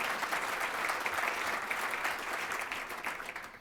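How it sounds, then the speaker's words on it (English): Applause fills a hall at a keynote luncheon, many hands clapping in a steady, even wash at moderate distance, without speech over it. "The applause is just so strategic"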